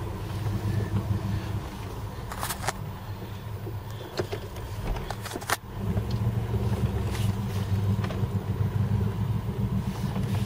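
A 1978 Ford LTD reversing: a continuous rumbling engine drone with rattling mechanical noise from a noisy rear end and a few sharp clunks, steady and close, with no talking.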